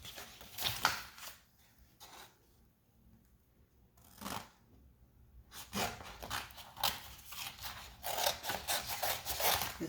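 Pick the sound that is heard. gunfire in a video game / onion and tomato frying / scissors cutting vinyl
scissors cutting vinyl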